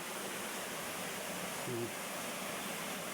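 A waterfall feeding a lagoon in Pola, Oriental Mindoro roars as a steady, broadband rush of falling water, constant and fairly loud throughout.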